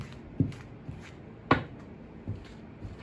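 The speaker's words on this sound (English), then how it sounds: "this is our last shuffle" Playing cards being shuffled by hand during a tarot-style card spread, heard as a few soft, separate riffles and taps, fairly quiet, with no talking.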